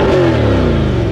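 Corvette C8 with performance exhaust revs hard, a loud, close, deep engine roar sweeping in pitch over a brief burst, with no talk.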